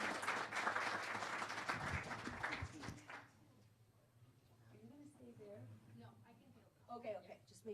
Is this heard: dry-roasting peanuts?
no